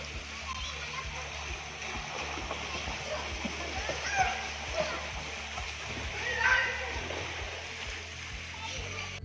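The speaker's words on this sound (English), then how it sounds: "still he loves to play in the water" A young boy who is a beginner swimmer plays with friends in a swimming pool, with soft irregular splashes and water sloshing at a moderate distance while children's voices and talk carry over the top.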